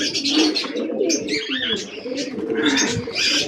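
Pigeons coo and chirp during a morning feeding, with several overlapping soft, throaty calls close by and constant murmuring from the flock.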